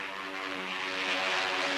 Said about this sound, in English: Their job is to protect their ship from assault by diving fighters like this.